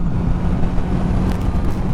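A Honda CB650R motorcycle at 70 mph on the road, throttle squeezed on for an overtake: steady loud engine drone buried in heavy wind rush and road roar, continuous throughout with no voices.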